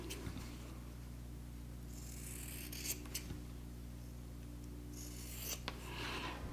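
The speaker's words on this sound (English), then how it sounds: "I'm just going to use scissors. And I'm trimming off the corners." Quiet scissors snip through quilt fabric, trimming corners in a few soft, scattered cuts over a low steady hum.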